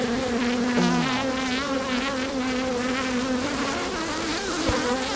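Dense, steady buzz of many honeybees swarming around an opened beehive during a varroa count, close and continuous throughout with no talk.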